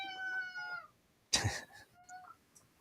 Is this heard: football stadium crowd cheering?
no